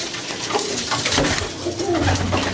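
Pigeons coo in soft, throaty bursts close by, a few rolling calls overlapping against a busy background.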